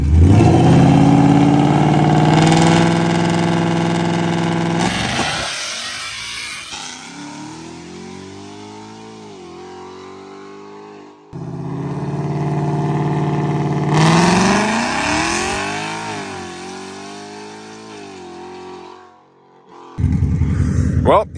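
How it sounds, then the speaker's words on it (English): A Ford Mustang revs and accelerates hard from a standstill out in open desert, the engine note rising sharply in two separate runs with a quieter stretch between them, loud and close. "we're in the middle of nowhere, testing Chuck's car, and we're gonna see what it does from a dig"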